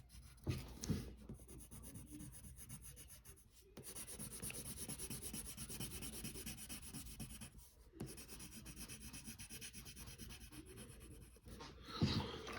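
A pencil shades on paper with its side, giving a soft, steady scratchy rubbing in continuous back-and-forth strokes, close and quiet, with brief pauses between passes.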